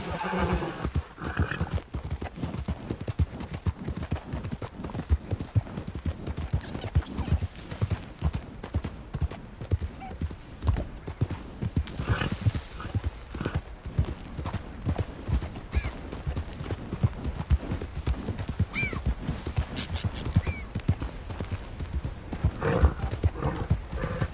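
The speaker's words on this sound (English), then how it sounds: "that's a nice-looking horse you have there" Horse hooves clip-clop steadily and a horse whinnies in Red Dead Redemption 2, the hoofbeats close and continuous with an occasional neigh.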